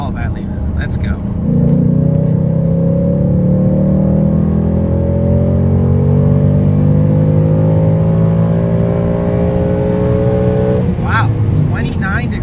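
A 2018 Ford Mustang engine on a flex fuel tune revs up and holds near the rev limiter for about nine seconds, a loud steady rising drone, with talk at the start and end.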